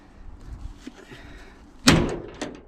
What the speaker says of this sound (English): I think it needs one hit with the hammer now.